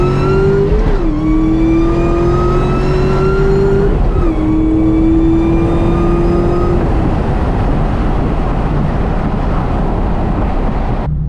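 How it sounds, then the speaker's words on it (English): A supercharged 2004 SVT Cobra Mustang with a Kenne Bell blower roars through a wide open throttle pull, engine pitch climbing steadily with two quick shift dips before settling into a loud sustained drone. "I'm gonna go ahead and do a pull for you guys"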